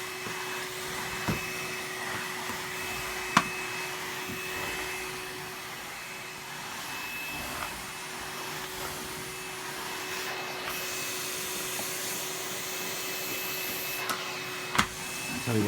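A Numatic Henry Cordless vacuum cleaner runs steadily on a household carpet, its motor whine holding a constant tone throughout, with a couple of brief bumps and clicks as it moves.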